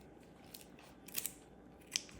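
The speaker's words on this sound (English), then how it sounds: "I'm gonna need some scissors" Scissors snip through a raw chicken wing with a few faint, quiet clicks and crunches spaced apart, recorded close but at low level.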